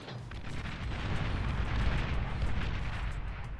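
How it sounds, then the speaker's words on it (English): Bombers fly a bombing run in the Beyond All Reason strategy game, setting off a dense, continuous rumble of overlapping explosions that swells and holds steady at moderate loudness. "this will be the last bombing run"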